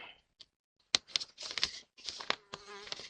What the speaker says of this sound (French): On n'a pas vu la mouche.